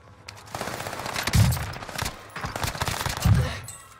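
In Call of Duty Warzone, a Modern Warfare AUG rifle fires two sharp bursts of rapid shots, close and punchy, each one ending in a heavier thump.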